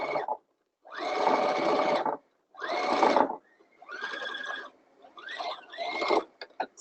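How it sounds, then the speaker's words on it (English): A sewing machine stitches rows on a tutu in bursts: several sustained, loud whirring runs of about a second each, separated by short pauses, close and alone. "So I just did one row of stitching and now I'm doing another."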